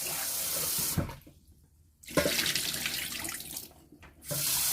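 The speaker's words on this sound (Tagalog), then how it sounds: "Wash first the rice." Rice washed under a running kitchen tap, a steady rush of water that drops away twice for a moment and returns, with splashing and swishing of grains, close and alone.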